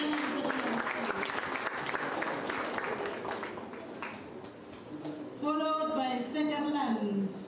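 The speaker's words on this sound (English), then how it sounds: "Let's applaud" An audience at a teachers' excellence awards ceremony claps steadily for a school, with an amplified voice speaking over the applause near the end.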